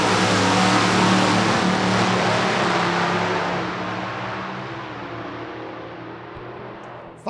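Drag racing car at a summer event, its engine roar loud at first and then fading steadily as it runs away down the track with a rough, labouring tone, with no talk over it.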